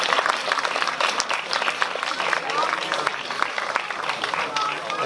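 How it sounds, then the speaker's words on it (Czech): A pub audience at a slam poetry evening claps the performers off the stage: brisk, bright clapping from a modest crowd, steady and close, with voices mixed in beneath. "vyprovoďte všechny z jeviště svým potleskem"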